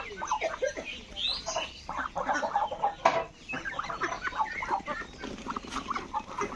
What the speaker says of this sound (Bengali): এই যে হাঁস আবার চলে এসছে